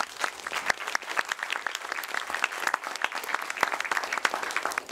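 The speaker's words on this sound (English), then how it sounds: "Keep the applause coming" An audience applauds at an engineering talk, dense steady clapping from a crowd that stays loud and even throughout.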